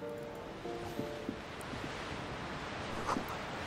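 Waves in the Disco Elysium video game wash faintly and steadily in the darkness, a soft continuous surf hiss with light wind and a few small clicks.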